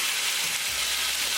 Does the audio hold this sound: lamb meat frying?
yes